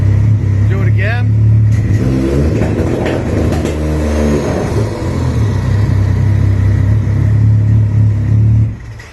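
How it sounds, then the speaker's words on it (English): A Can-Am Maverick X3 turbo engine revs hard against launch control with the brake held and full throttle applied, giving a loud, close, continuous rumble and buzzing roar that runs almost the whole clip and drops off at the end. "step on the brake, and go full throttle."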